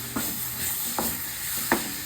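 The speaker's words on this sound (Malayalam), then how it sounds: "നമുക്ക് ഇളക്കി കൊടുക്കാം" Plantain fries in a pan with a constant sizzle, while a spoon stirs it in three distinct scraping strokes spaced evenly apart.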